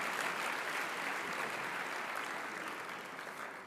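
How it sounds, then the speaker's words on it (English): Audience applause at a university business school spring convocation ceremony, a dense wash of clapping from a large crowd that stays steady, then tapers slightly toward the end. "Some more applause."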